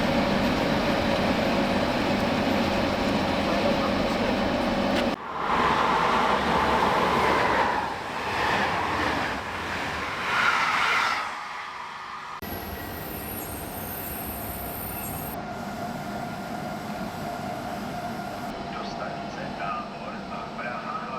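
The Silva Nortica train rumbles and clanks steadily during a locomotive change, with wheel squeal and shifting rolling noise over about twenty seconds, loud and close, while a voice talks over it.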